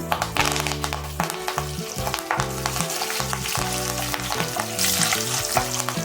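Cashews, dry red chillies and curry leaves crackle and sizzle in hot oil for a South Indian capsicum and coconut fry. A loud, steady frying hiss runs throughout, broken by stirring scrapes, with no one talking.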